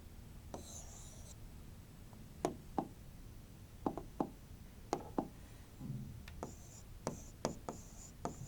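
A pen scratches across paper in short, separate strokes with small taps between them, close and quiet, on a teacher's worksheet during a science class.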